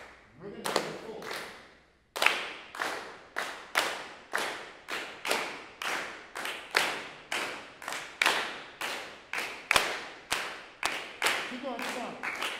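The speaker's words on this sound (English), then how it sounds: "That you all clap loud, because you all are the bass." Audience clapping loudly in a steady beat, serving as the bass line in a group rhythm exercise; after a brief pause, regular sharp claps repeat evenly for about ten seconds, close and strong.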